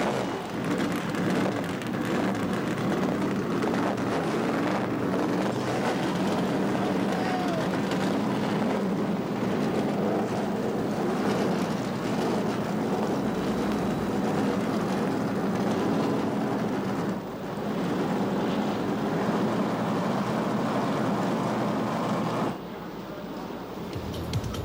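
A pack of NASCAR stock car engines fires up and roars at the 1990 Daytona 500 speedway, a loud, dense, continuous mass of engine noise that holds steady throughout before dropping slightly at the end.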